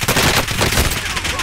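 Rapid gunfire in Call of Duty Warzone on the Caldera map, loud, dense bursts filling the whole moment at close range with no pauses.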